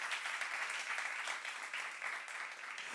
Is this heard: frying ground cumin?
no